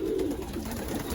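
Young racing pigeons coo softly in a loft in Texas, giving a short, low, close burble with no talk over it.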